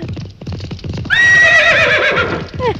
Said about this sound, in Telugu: నీ అరుపు రేసు గుర్రం సకిలింపులా వినిపించిందిరా